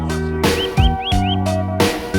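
Birds singing in a forest, heard as a series of short rising chirps repeated in a steady rhythm. They sit over a loud, sustained musical backing with tonal chords, and the birdsong is clear but not dominant.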